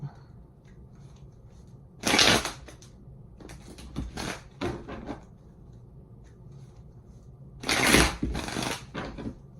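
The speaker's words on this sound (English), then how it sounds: "Two more shuffles." Bursts of crisp riffling as a deck of tarot cards is shuffled, several quick flurries with pauses of quiet between them.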